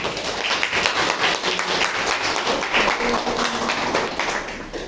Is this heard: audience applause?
yes